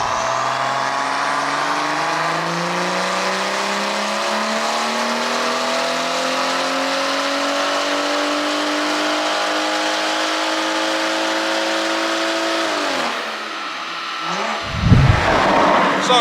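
Tuned BMW M140i on a dyno with a big turbo at 1.2 bar of boost, its engine pulling a long steady rise in pitch, loud and close, before cutting off into a brief whoosh and rumble.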